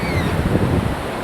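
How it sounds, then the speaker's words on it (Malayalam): Strong ocean waves at St. Mary's Island beach near Malpe make a steady, close roar of surf mixed with wind buffeting the microphone, with no clear breaks. "അവിടെ വെള്ളം തിരമാലയ്ക്ക് നല്ല ശക്തി കേട്ടോ."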